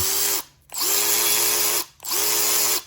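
Milwaukee M12 Fuel electric ratchet running in two loud sustained bursts separated by a brief pause, a steady whirring motor whine heard close up with no talk.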